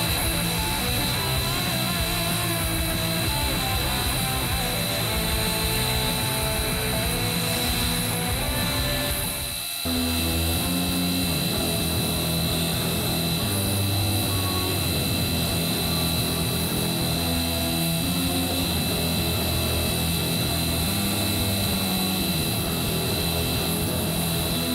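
A belt grinder roars steadily while grinding the bevels on a custom karambit knife before heat treatment. The dense drone stays loud and continuous, with a brief dip near the middle as the blade is lifted and reapplied.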